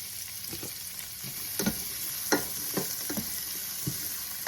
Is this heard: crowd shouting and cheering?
no